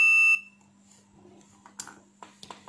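A Pro'skit MT-1232 digital auto-range multimeter gives one loud, steady continuity beep lasting about a third of a second, followed by faint clicks and light handling sounds.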